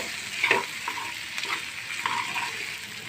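Fried tomatoes being stirred into pasta noodles frying in a pan: a steady soft sizzle with several brief scraping stirs, close and moderately loud, no talking.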